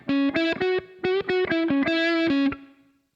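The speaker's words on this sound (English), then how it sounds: "And then I turn on the reverb." A distorted electric guitar with short reverb plays a short choppy phrase of held notes, each ending with a brief, subtle ambient tail that lingers after the last note.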